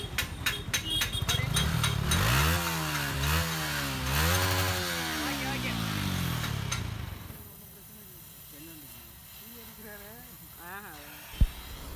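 A Yamaha R15 motorcycle fitted with a DB killer silencer, its engine revving loudly in rising and falling sweeps for several seconds, then dropping to a quieter, rougher idle with a sharp knock near the end.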